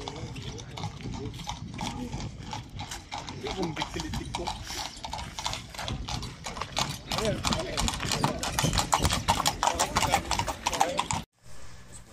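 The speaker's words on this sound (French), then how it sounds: "regardez, on a des chevaux qui passent là" Horses walking past on a town street, a steady run of close clip-clop hoofbeats growing louder as they pass, with people talking over the hooves before the sound cuts off abruptly.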